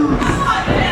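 Wrestling event crowd noise, a steady dense roar of cheering and chatter from a large audience, loud and continuous throughout with no single voice standing out.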